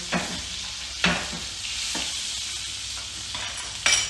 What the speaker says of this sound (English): Basting, basting and basting, very relaxing.